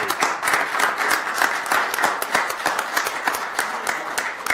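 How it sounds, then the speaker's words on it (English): Council chamber audience at a county commissioners meeting claps to honor someone's 13 years of service; individual hand claps stay crisp and distinct within a moderate, even round of applause lasting several seconds. "So can we give a round of applause for 13 years for Big Billy?"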